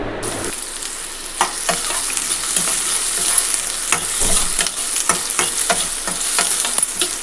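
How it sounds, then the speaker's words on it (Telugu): Sliced onions and green chillies fry in hot oil for a dhaba-style curry, a steady loud sizzle broken by repeated scraping strokes of a spoon stirring the pan, with no talking. "రెండు ఉల్లిపాయలను కట్ చేసి ఈ విధంగా వేసుకోవాలి అందులో ఒక మూడు పచ్చిమిర్చి ముక్కలను కూడా వేసుకొని బాగా కలుపుకోవాలి"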